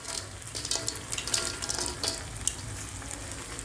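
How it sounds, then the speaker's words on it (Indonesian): Crisp fried petai and anchovies are stirred into chili sambal in a hot pan, giving a soft, steady sizzle with scattered light stirring scrapes, quiet and close. "sekarang kita masukkanlah goreng pete dan teri tadi yang sudah garing"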